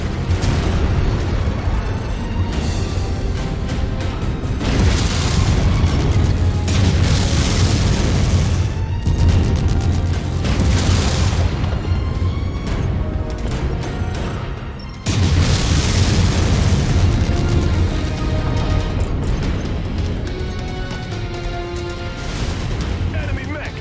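Continuous heavy booms and blasts from mech combat in the MechWarrior 5: Mercenaries video game, with rumbling explosions layered thickly over a dense, loud battle soundscape for the whole stretch.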